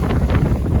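Strong wind blowing at sea off a refuge on the ocean during a wind storm, a steady broadband roar buffeting the microphone with no voices.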